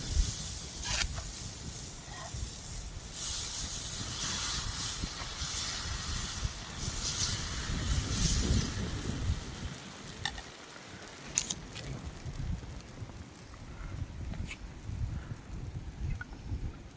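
Dosa batter frying on a hot iron griddle in a village kitchen, a steady soft sizzle and hiss running throughout with occasional light scraping, fairly quiet.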